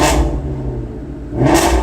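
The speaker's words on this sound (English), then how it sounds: "it's got a button where we can release the exhaust" A 2016 Ford Mustang Shelby GT350R with its exhaust valves opening as the drive mode switches from normal to sport, giving a loud, close engine roar that dips briefly and then swells back up.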